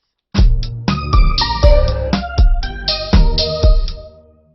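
A short syncopated phrase from a one-minute composition plays back alone: loud, plucked-sounding notes with off-beat accents and ringing chords, decaying at the end.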